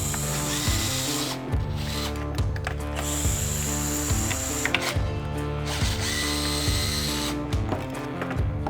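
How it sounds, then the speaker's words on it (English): Bolts come out of the rail of a Onewheel GT electric board with a power driver or ratchet, giving repeated buzzing mechanical bursts with rhythmic clicking, loud and close throughout. "We're going to remove the remaining 4 bolts on the top,"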